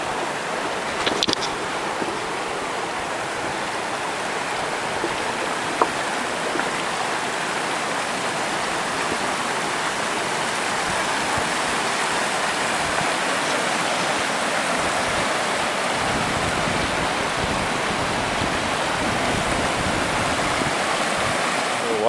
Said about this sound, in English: right now we are walking right above flowing water.